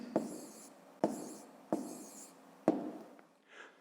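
Pen or pencil writing numbers by hand on paper for a fifth-grade maths exercise: four short scratchy bursts of strokes, each starting with a tap and fading, close and fairly quiet, with no talking.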